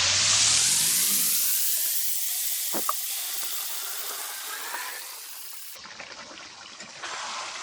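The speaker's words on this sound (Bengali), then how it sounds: "বেরেস্তা ভাজা তেলের মধ্যে এখন আমি চিকেন গুলা দিয়ে দিতেছি" Chicken pieces dropped into hot oil left from frying onions sizzle loudly, a dense steady hiss that softens gradually, with a sharp burst partway through and a crackling, bubbling texture in the second half.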